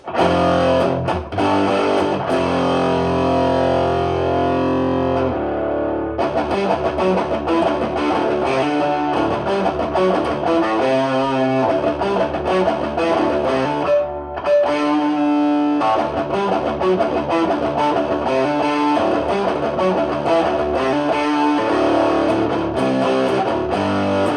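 Loud, heavily distorted electric guitar played through a distortion pedal, chords and riffs continuously, thick and saturated, with brief pauses between phrases.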